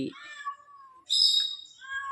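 A pet parrot mimics a cat's meow, giving two drawn-out, whiny meow-like calls with a short pause between them, close and clear against a quiet background.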